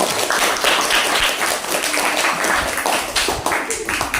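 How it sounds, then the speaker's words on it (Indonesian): Classroom applause for classmates after a presentation: dense, steady clapping from many students that lasts the whole stretch, with a few voices faintly underneath. "Kasih tepuk tangan dulu untuk teman kalian."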